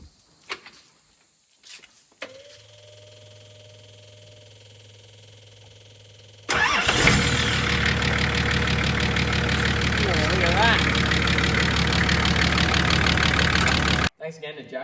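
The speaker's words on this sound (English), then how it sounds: "So that's hooked up, I'll crank her over." A Nissan TD42 diesel engine cranks with a hum and clicks from a jump-start pack, then fires and settles into a loud, steady, rumbling idle, with a brief voice at the start.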